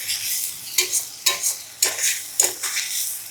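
Spice masala being stir-fried with fried coconut in a pan for an egg ghugni: a steady oil sizzle broken by several sharp scraping stirs of the spatula, close and fairly loud, with no voices.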